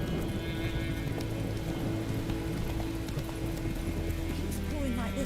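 Roach the horse gallops in the Witcher 3 video game, a steady clip-clop of hooves running continuously under rain, music and occasional voices.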